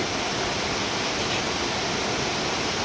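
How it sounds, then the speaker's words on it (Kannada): A small waterfall stream near a temple in nature pours in a constant, even rushing hiss, close and unbroken throughout. "ಸಣ್ಣ ಜರಿ"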